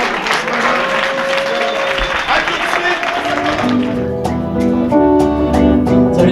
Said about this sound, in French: je voudrais qu'on applaudisse tous ceux qui sont battus pour cette soirée organisée